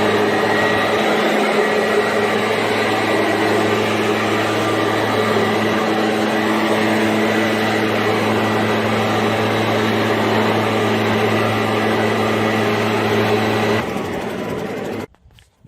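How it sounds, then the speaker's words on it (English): A leaf blower runs steadily and loud, clearing dust off a stamped concrete patio before sealing, its droning motor holding constant for about fourteen seconds before cutting off abruptly. "First thing I always do is put the leaf blower to it and blow off any dust before I seal"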